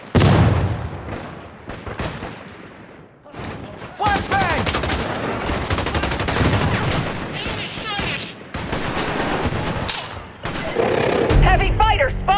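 A flashbang grenade going off during a Caliber firefight, mixed into dense, loud bursts of gunfire and blasts, with voices calling out over the combat.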